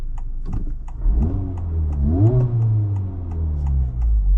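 A 2023 Honda Civic Type R FL5 accelerates hard from inside the cabin, its engine note rising through the revs with a brief shift dip, loud and close with no talking.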